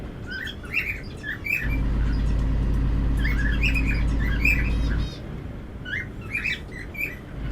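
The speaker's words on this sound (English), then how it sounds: "Why do my birds have to chirp up when I'm going live?" Pet birds chirping and squawking indoors in short bright bursts, close by, while a steady low engine drone from a truck driving game rumbles underneath for part of the time.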